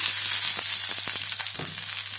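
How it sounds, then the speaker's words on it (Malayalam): Mustard seeds and chopped coconut fry in coconut oil with a bright, close sizzle. Scattered sharp pops and crackles sit over a steady hiss. "ചെറുതായി നുറുക്കിയ തേങ്ങാക്കൊത്ത് ഇട്ട് കൊടുക്കണേ കടുക് പൊട്ടി വരും"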